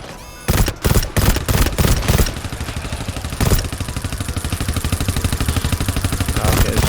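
An auto sentry turret fires in the GTFO video game, with loud sharp bursts of gunfire at first and then a sustained rapid stream of shots rattling on, close and dominant.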